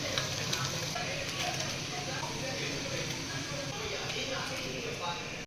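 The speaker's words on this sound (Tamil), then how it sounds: "நெக்ஸ்ட்டு வந்து ரவுண்ட் டைப்பில் இருக்கிறது எல்லாமே வறுத்து எடுத்துகிட்ருக்கோம்" Round momos deep-fry in hot oil with a steady, close, even sizzle that holds throughout before stopping abruptly.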